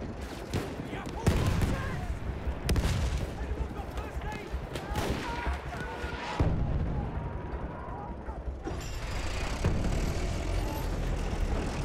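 Gunfire crackles through a Battlefield 1 conquest battle, with bursts and heavy booms layered in a dense, busy wash of combat noise; a voice talks over part of it.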